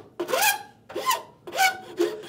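A scraper works a wooden saw handle in three or four rasping strokes, each a bright, close scrape with a slight squeal, separated by short pauses, with no talk.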